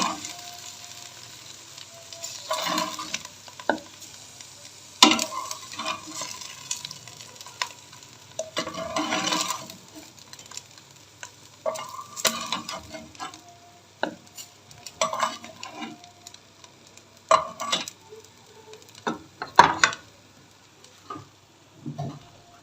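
Fried okra being lifted out of a frying pan, with scattered scraping and clinking of a utensil against the pan over a soft background sizzle, irregular and close.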